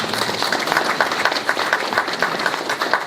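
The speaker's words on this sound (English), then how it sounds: "J'attendais pas les applaudissements" A conference audience at a Paris crypto meetup claps briefly, a dense, even patter of many hands that continues for a few seconds without voices.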